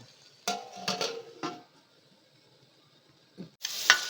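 Tomato and cluster bean curry cooking in a pan: a few close scraping, clattering stirs, a quiet pause, then a loud burst of sizzling at the end. No voices.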